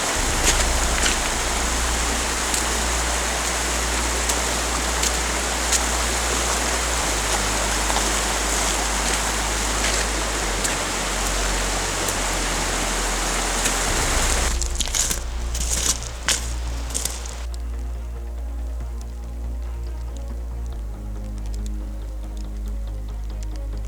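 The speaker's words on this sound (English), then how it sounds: "It's raining on us." Steady rain falling outdoors during an Idaho elk hunt, a dense constant hiss that thins abruptly midway into softer, sparser patter with a few crackling bursts, no voices.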